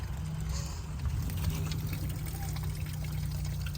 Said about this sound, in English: Yeah, it's pouring out right now.